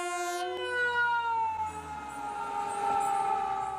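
A toy ambulance plays a wailing electronic siren with a buzzy, harmonic-rich tone that slides slowly downward, loud and continuous for a few seconds with no voices over it.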